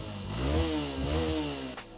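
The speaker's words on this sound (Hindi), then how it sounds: "तो ओवर रेप करने पर एग्जॉस्ट से जो ऐसी साउंड आती है ना" A motorcycle engine is over-revved, its exhaust note rising and falling in a strained, buzzing rev with a loud, sustained tone and a brief rattle near the end.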